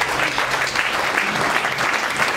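A church congregation claps continuously and loudly, a thick wash of many hands that holds steady from start to finish.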